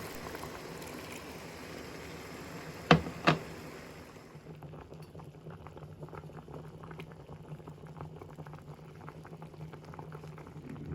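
Water is poured into a pan over lavash rolls with minced meat, a bubbling, sizzling liquid hiss with two sharp clanks near the start, then steady simmering patter.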